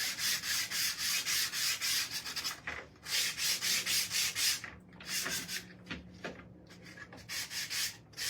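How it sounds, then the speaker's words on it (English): A wooden frame with a Snoopy design sanded by hand in quick, rhythmic back-and-forth rasping bursts, close and loud, broken by a few brief pauses and no talking. "We're going to sand it just a little bit, just to kind of add a little something to it."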